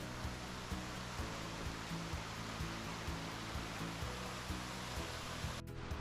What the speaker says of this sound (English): I went to this beautiful waterfall